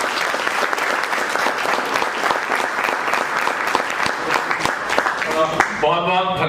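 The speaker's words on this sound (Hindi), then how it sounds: "तो मैं चाहूंगा एक बार और जोरदार तालियां हो जाए।" An audience bursts into loud, sustained applause at a hosted stage event, dense clapping filling the space throughout; near the end a voice starts speaking over the fading clapping.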